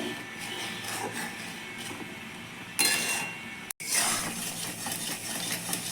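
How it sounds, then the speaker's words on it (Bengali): Milk simmers in a pot over a low gas flame while ghee is made, and a utensil stirs it with scraping and clinking against the metal. A sharp clank is followed by a brief silence, then the stirring resumes. "গ্যাসটা আস্তে রেখে এইভাবে নাড়াতে থাকতে হবে না হলে নিচে লেগে যেতে পারে"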